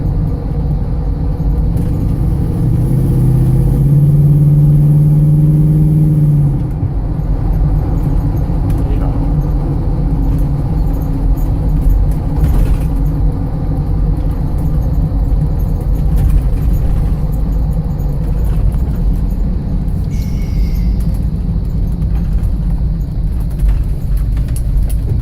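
A 1979 GMC K5 Jimmy engine drones steadily while driving, a throaty low rumble with occasional rattles and a brief hiss of air brakes.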